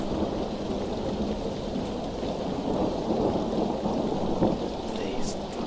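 Steady pattering rain with low rolling thunder, a dense continuous downpour that swells slightly in the middle, heard alone without voices.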